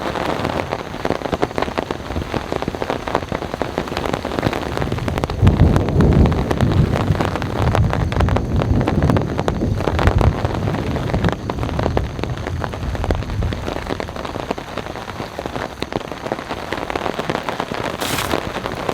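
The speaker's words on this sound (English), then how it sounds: "it's been about 30 minutes of heavy rainfall. The rain continues" Heavy rain drums hard and continuously on a campsite tarp during a strong thunderstorm, a dense, loud patter that swells midway and eases slightly toward the end, with no voices.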